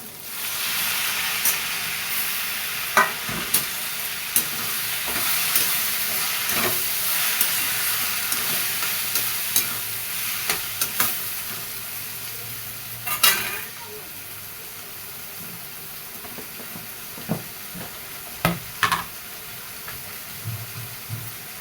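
Tomatoes sizzling in a hot pan as they are added and stirred into a dry bombil (Bombay duck) vegetable dish, with steady frying hiss and repeated scraping stir clicks, close up.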